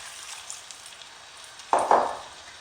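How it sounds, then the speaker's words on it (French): Water poured into a hot tagine of browned meat bursts into a sharp sizzling hiss about two-thirds of the way through, loud and close after a quieter background of faint frying crackle. "Je vais arroser avec l'équivalent d'un grand verre d'eau."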